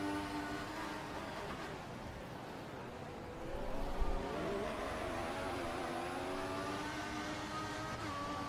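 Formula 1 cars racing in a video game at the Australian circuit, a McLaren, Lotus, Force India and Ferrari among them, engines whining and shifting pitch continuously, moderately loud with a brief surge midway.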